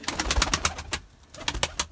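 Pigeons cooing inside a coop, a run of soft repeated coos and wing-flutter bursts close by, with a brief quieter gap midway before the calls resume.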